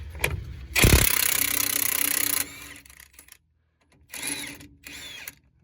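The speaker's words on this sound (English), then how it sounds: "we're gonna put the impact on it and" A pneumatic impact wrench rattles in a loud sustained burst removing the pinion nut on a Sterling/Ford 10.25 rear axle, then shorter bursts of whirring follow after a pause, close by.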